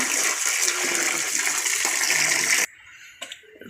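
Meat is washed in a basin of water, a loud steady rush and slosh of water that stops abruptly partway through, followed by a few faint splashes.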